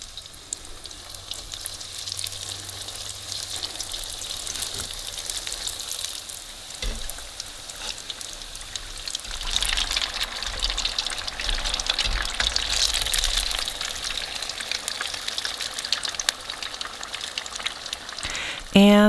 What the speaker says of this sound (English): But let's fry it and see how they turn out.